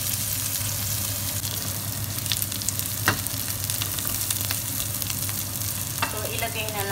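Onion and garlic fry steadily in a pan for squid adobo, a continuous close sizzle with a few faint clinks and stirring sounds, no talking.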